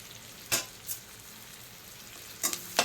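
Sliced onions fry in hot oil as the base for a spicy mutton gravy: a faint, steady sizzle runs throughout, broken by a few sharp scrapes of stirring near the start and end. No one speaks.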